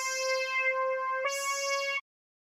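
A dry synthesizer melody with no chorus plugin, steady harmonic tones holding one note and then stepping up to a brighter second note before stopping abruptly, with nothing else heard.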